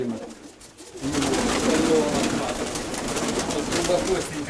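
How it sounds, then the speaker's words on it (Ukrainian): Pigeons in a loft cooing in soft, overlapping throaty calls that swell after a quieter start and continue steadily near the listener, with people talking in the background. "А, голубка вон, а голубка вот"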